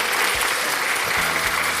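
A brief burst of steady clapping from a small group, continuous and fairly close, with no voices over it.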